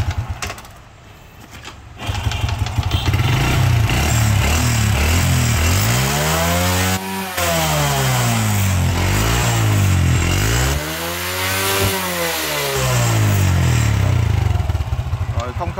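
A small Honda RSX 100 motorcycle engine runs loud and close, idling roughly then revving up and down several times in rising and falling sweeps.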